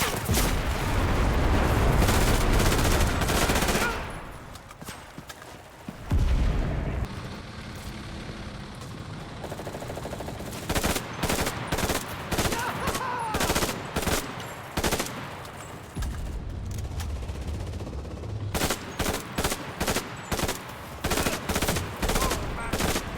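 A Beretta M1918 submachine gun in the shooter Enlisted fires long, loud rapid bursts, then after a lull resumes in repeated short volleys, with battle noise in between.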